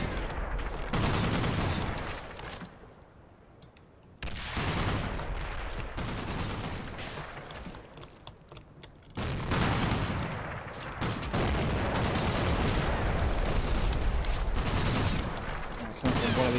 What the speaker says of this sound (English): Feel like a heavy MG going.